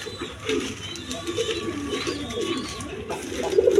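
A pair of white Bombay pigeons coo in soft, repeated low rumbles, close by amid faint background bustle and a few brief clicks.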